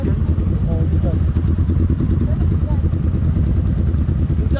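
A 400cc motorcycle on a night ride along the Marilaque highway gives a loud, steady low engine rumble with wind buffeting throughout, while voices talk faintly over it.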